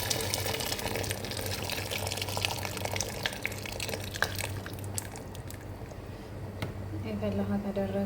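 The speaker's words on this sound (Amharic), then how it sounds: "የፈላ ውሃ ነው የምናደርገው።" Boiling water pours into a pot for cooking rice, making a steady splashing rush close by with a low background hum.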